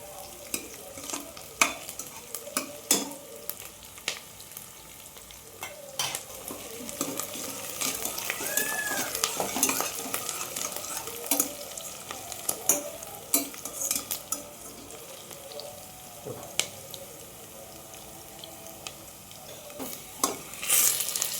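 Onions browning in oil for jackfruit biryani give a continuous low sizzle, broken by frequent sharp scrapes and taps of a spatula against the pan, steady and close with no talking.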